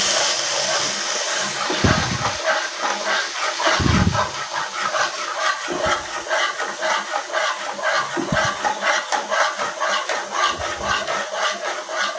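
Yogurt and spice paste hit a hot pan and sizzle steadily, a loud continuous hiss with bubbling crackle and occasional low clanks from stirring throughout.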